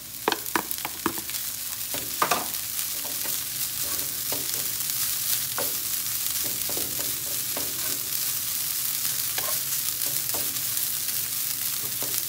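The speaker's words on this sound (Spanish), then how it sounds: "ahora vamos a agregar nuestra carne deshebrada" Shredded meat sizzles steadily in a hot pan, with scraping stir strokes clustered in the first few seconds and scattered clicks of the utensil after, all close and without talking.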